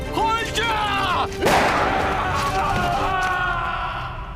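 A single sharp gunshot rings out in a scene of the TVB Cantonese drama Storm in a Cocoon, surrounded by strained, tense voices.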